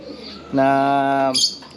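A racing pigeon gives a single close, clear coo lasting under a second, with faint background noise before it and a short rustle right after.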